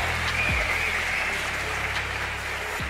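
An audience applauds at a face-to-face debate, a steady hiss of clapping that runs the whole time over a low background hum.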